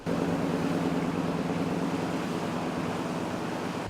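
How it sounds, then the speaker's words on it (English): Floodwater from an overtopped creek rushes over a sidewalk in a Montana town, a loud continuous broadband roar with a rumbling low end, close to the microphone and steady throughout with no voices. "I can feel the power of this water just rushing over my feet."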